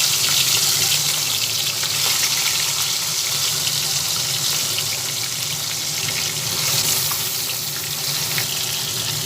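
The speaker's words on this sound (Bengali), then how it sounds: "মাছগুলো তেলের মধ্যে দিয়ে ভেজে নিচ্ছি" Dense, continuous sizzling and crackling of tilapia fish frying in hot oil, steady and close throughout with no pauses.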